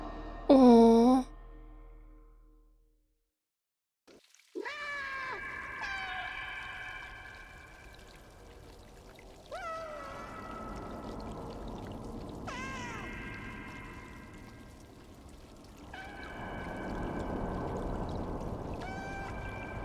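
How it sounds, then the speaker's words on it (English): Cats meowing in the video game Stray, a run of plaintive meows spread through the scene, some near and some farther off, with soft ambient game sound between them and a short silent gap early on. "I can hear them meowing."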